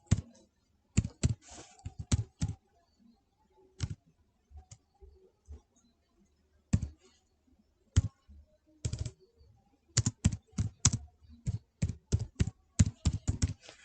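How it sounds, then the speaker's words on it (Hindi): Someone types text on a computer keyboard in MS Word, with close, crisp key clicks coming in irregular bursts and flurries separated by short pauses. "just click on this and type your text"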